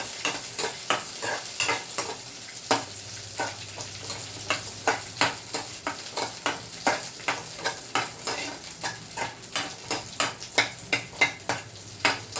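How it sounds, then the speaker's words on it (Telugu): Tamarind chutney ingredients fry in oil with a steady sizzle while a spoon stirs and scrapes the pan in a regular rhythm of close, crisp knocks throughout, with no voices. "ఈ ఆయిల్ వేసారు కదండి, ఇలాగ మొత్తం బాగా వేగే వరకు వేయించండి."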